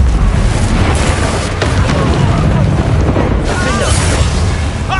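An explosion from the Confringo spell in the video game Hogwarts Legacy fills the clip with a loud, sustained booming roar. A faint voice surfaces briefly near the end.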